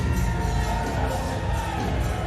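Crowd cheering at a Mosconi Cup pool match, a dense continuous roar of voices and whoops from a packed arena, loud and sustained across the whole moment.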